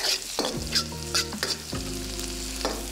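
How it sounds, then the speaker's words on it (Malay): Egg sizzling in hot oil in a wok while a utensil scrapes and stirs it in repeated strokes to break it up, loud and close. "Lepas tu baru korang kacau-kacau bagi telur tu hancur."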